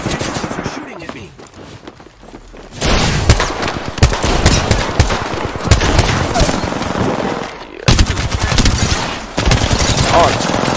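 Automatic weapon fire in the video game Apex Legends, loud sustained rapid bursts with brief pauses, close and dense, with a player's voice over the shooting.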